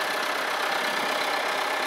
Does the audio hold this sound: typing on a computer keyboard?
no